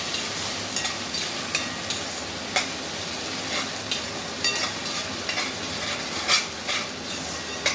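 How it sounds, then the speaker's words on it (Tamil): Onions sizzle and sauté in a pan for egg curry, a steady low frying hiss broken by scattered clicks and scrapes of a spoon stirring against the metal. "இது நல்லா பச்சை வாடை போகிற அளவுக்கு வதக்கலாம்."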